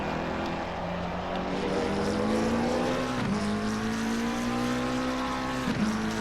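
McLaren GT race car in Assetto Corsa Competizione at Silverstone, a loud, smooth engine drone rising in pitch between two quick gear shifts, close and continuous.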